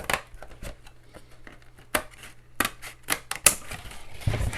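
Scissors cutting the large flat panels off a cardboard cereal box, heard as a series of sharp, close snips and crunches in irregular bursts with brief pauses between cuts.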